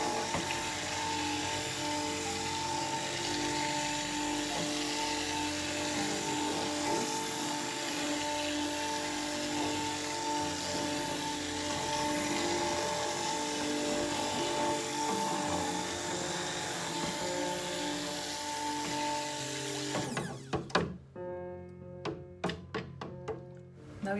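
Bourbon soap batter whirring in a blender, a steady loud motor drone lasting about twenty seconds, then cutting off into a few knocks and taps.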